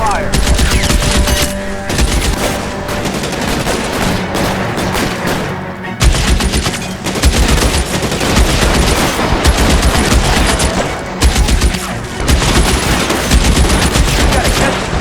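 Sustained gunfire from a shootout at Nicholson Electroplating in L.A. Noire, loud and dense, with rapid bursts and single shots cracking almost nonstop and brief gaps between volleys.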